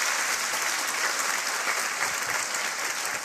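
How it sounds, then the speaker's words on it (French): Studio audience claps steadily on a French television cooking show, a dense, even wash of applause throughout the short stretch. "on vous applaudit tous les deux"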